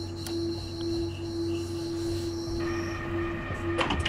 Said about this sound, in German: Da kommt gerade noch ein Zug an.